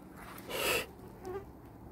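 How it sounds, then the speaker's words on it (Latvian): Mosquitoes buzz at night beside the Lielupe river during a fishing outing: a brief, close whine swells past and fades, followed by a fainter second buzz in an otherwise quiet setting. "Odu vienalga daudz."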